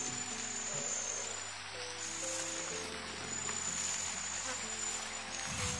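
Heavy rain pours down in a dense, continuous hiss that stays loud and steady throughout, with a faint high whine and low rumbling murmurs underneath.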